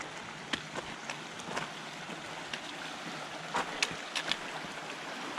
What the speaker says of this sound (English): Now the water's running stronger than the last time I've come through here